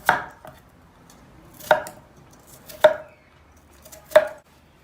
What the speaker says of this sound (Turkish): Patateslerimizde elma dilim doğrayacağız.